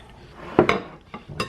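A fork working through cake batter with chunks of butter in a bowl, a few sharp clinks and scrapes against the bowl separated by short pauses, close and alone.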